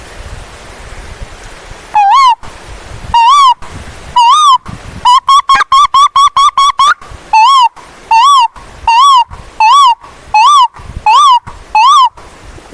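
A voice imitates the call of an Asian koel, repeating a clear rising, whistled note many times, first in spaced bursts, then a quick run, then evenly spaced calls, loud and close.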